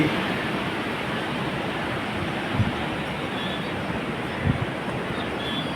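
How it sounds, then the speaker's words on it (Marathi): A continuous roar of sea surf on the Konkan coast, fairly loud and unbroken, with a couple of dull thumps along the way. "बघा असा मस्तपैकी समुद्र आपण बघत आहोत."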